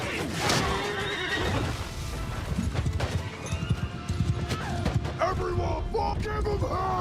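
A chaos horse in a Warhammer video game whinnies loudly amid battle noise, hoofbeats and clatter, followed by more rumbling action and shorter animal cries.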